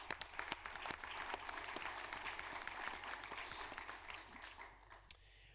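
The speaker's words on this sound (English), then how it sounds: "Let's give all of our new members a big and hearty round of applause." A meeting audience at a Carter Center Board of Councilors gathering gives a brisk round of applause welcoming new members, with dense overlapping claps at fairly low level that thin out and fade toward the end.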